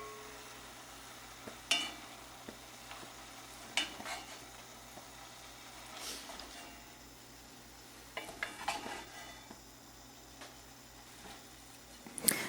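Chicken, potatoes, kale and bacon frying in a pan on low heat, a soft steady sizzle broken by a few sharp clinks and scrapes as a spoon stirs the food now and then.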